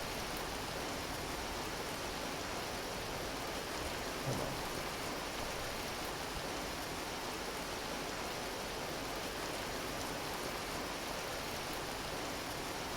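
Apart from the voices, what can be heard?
heavy rain and thunder in the video game Vintage Story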